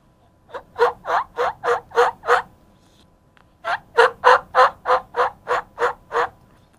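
Imitated wild turkey tree calls: two soft series of rhythmic clucking yelps, about seven notes each, separated by a short pause, close and fairly quiet with no talk.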